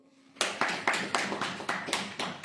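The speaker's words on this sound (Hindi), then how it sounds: "ताली दो।" An audience at a sermon breaks into clapping after a short quiet moment, with sharp claps in an even, rhythmic beat of about eight strokes, close and fairly loud.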